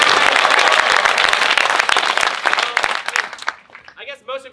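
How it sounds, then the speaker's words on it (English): Loud round of applause from a high school audience at a comedy show, dense clapping that thins and fades after about three seconds as a voice begins speaking. "I would like everyone to give AJ a good round of applause."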